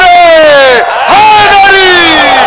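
A crowd at a qasida gathering in honour of Mola Ali roars a religious slogan in unison, loud sustained massed voices that dip briefly and then surge again.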